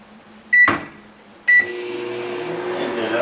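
A microwave oven runs with a steady hum after two sharp beeps and a door or button clunk, close and fairly loud, with its drone filling the rest.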